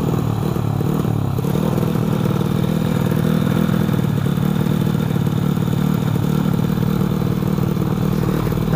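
A Vespa scooter engine fitted with a 68mm piston and a carburetor revs loudly and close, a rough, clattering mid-pitched drone held steadily throughout.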